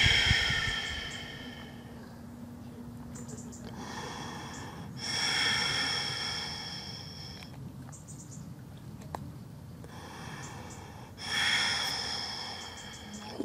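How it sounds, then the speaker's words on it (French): Slow, steady Ujjayi breaths during a hip-stretching yoga session, each long inhale and exhale a soft, close airy rush that swells and fades in an even rhythm with quiet pauses between. "Garde des respirations Ujjayi, des respirations fluides."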